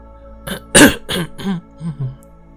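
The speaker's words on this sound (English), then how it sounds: "He coughed and looked away." A short burst of throat clearing and coughing, several rough pulses in quick succession, close and fairly loud, then tapering off into softer grunts.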